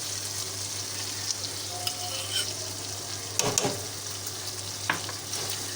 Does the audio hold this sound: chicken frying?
yes